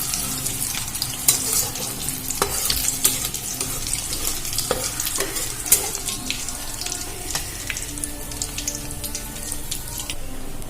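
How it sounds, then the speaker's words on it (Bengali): Whole cumin, dried chillies, cardamom, cloves and cinnamon sizzle and crackle in hot oil, with sharp scraping stir strokes repeating close by over a steady hiss, no talking. "আর একটু নাড়াচাড়া করে ভেজে নেব।"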